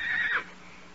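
A horse neighs once in a brief, fairly loud whinny that fades quickly, set in a Western outdoor scene with no talk over it.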